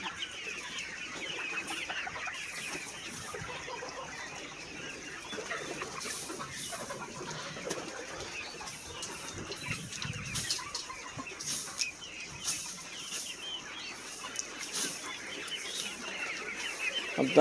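Hundreds of farm chickens cluck and squawk together in a steady, close chorus at a poultry farm with about 2,200 birds being caged, with sharper individual calls and brief flurries rising above the constant din.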